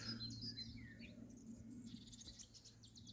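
Small garden birds, finches among them, chirp faintly in a planted garden, with scattered high tweets sounding distant and soft against a steady low background hum, with no talking.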